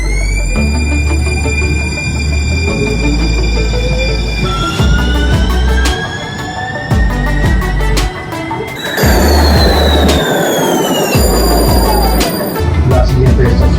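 A San Diego trolley train rumbles loudly up close, its wheels squealing in long, shrill, sliding tones on the rails as it runs steadily throughout.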